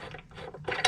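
Wrench ratcheting on bolts of an angle grinder guard: a brief burst of quick, close clicks, quiet at first and sharpening toward the end.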